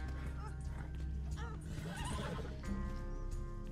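A horse whinnies in an online video game, a fairly quiet neigh with clip-clopping hooves beneath it amid busy game noise.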